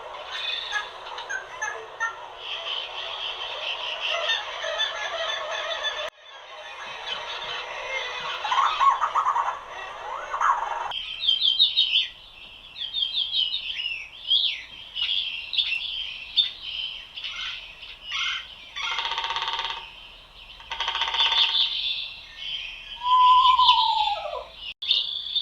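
Birdsong plays from the small twin speakers of a stereo pop-up book: a changing mix of chirps, trills, warbles and whistled calls, one species after another, fairly close and clear for the whole stretch.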